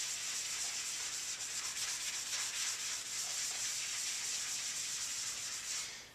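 Steady, close-up rubbing of trim restorer into black plastic car trim, a continuous dry, hissing scrub that keeps a fast even rhythm and fades out at the end, with no voices.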